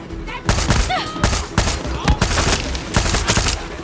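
Bursts of video game gunfire from a heavy-recoil gun, rapid fusillades that repeat in several loud clusters with brief gaps, up close.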